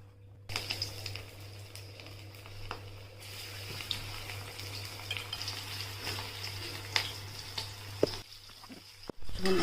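Chilli garlic flower snacks fry in hot oil, giving a low, even bubbling hiss with faint clinks of a utensil against the pan, steady at moderate volume throughout.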